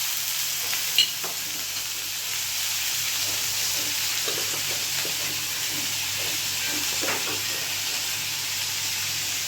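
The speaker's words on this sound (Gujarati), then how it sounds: "હિંગ નાખીને વઘારી દઉં છું" Asafoetida tempering in hot oil with mustard seeds, a steady close sizzle and frying hiss holding for the whole stretch, with a brief stir or clink near the start.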